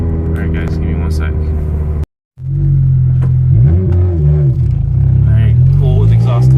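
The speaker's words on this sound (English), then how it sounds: "I'm gonna do one more pull with exhaust cutout open" A tuned 2006 Toyota Corolla XRS with its exhaust cutout open roars loudly and close, its engine droning steadily; the sound drops out briefly, then resumes as a deep accelerating rumble with a rising pitch sweep.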